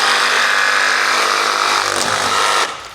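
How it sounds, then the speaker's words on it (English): Power saw cutting through campervan top trim at the bulkhead B pillar, a steady loud buzzing cut that runs continuously for over two seconds before abruptly stopping and tailing off. "So I'm going to cut it off straight up there."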